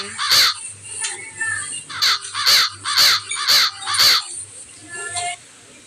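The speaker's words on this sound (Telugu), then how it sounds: "ఎందుకే కాకి అట్లా అరుస్తున్నావు" A crow caws loudly and close by, giving a quick opening call and then five harsh, evenly spaced caws in a steady rhythm, with light background noise between calls.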